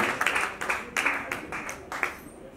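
A few rhythmic hand claps ring out at a Marathi TV serial launch event, greeting the grandmother as she is welcomed on stage. The sharp, evenly spaced claps are moderately close and stand alone without talk.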